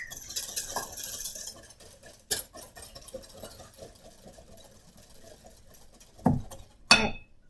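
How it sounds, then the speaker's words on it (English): Pudding mix is whisked into milk for dirt pudding cups, a soft, continuous low scraping and swishing in the bowl, broken by a few sharper clinks of the whisk against the bowl near the start and toward the end. "I'm going to mix the pudding mix into the milk with a whisk."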